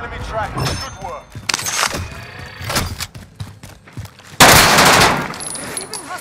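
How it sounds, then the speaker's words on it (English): Bursts of gunfire from Call of Duty Warzone Rebirth crack out in uneven clusters, closing with a loud sustained volley, while players talk over the shooting. "Oh, they're shooting me."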